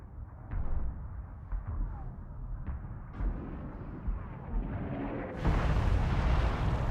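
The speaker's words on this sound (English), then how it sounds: "95 miles away, troops in the Vosges can hear the bombardment." World War I artillery bombardment, a series of heavy booms and bursts rolling in one after another, with a sudden louder, brighter roar near the end.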